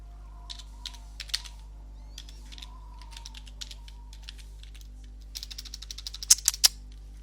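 Typing on a computer keyboard: scattered single keystrokes, then a quick burst of clattering keys near the end, close and fairly loud over a steady low hum.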